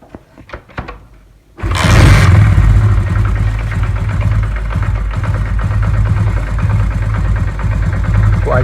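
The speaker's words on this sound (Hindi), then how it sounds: "बाइक को दोबारा स्टार्ट करते हैं" A few quiet clicks, then a Honda CD 70 motorcycle engine kicks into life with a loud burst and settles into a steady, throbbing idle close by.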